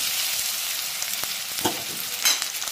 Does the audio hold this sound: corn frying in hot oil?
yes